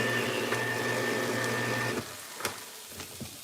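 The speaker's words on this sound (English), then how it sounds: "Excuse the noise, guys. The can opener." An electric can opener whirs with a steady mechanical hum for about two seconds, then stops, followed by a few small clicks and clanks.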